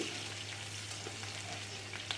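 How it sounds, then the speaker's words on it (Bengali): Bay leaf, green chilies and crushed garlic fry in oil with a steady, low sizzle that holds evenly throughout, joined by soft scrapes of stirring and a steady low hum. "এখানে দিয়ে দিয়েছি থেতো করা রসুন সব কিছু দিয়ে একটু নেড়েচেড় আমি একটু ভেজে নেব"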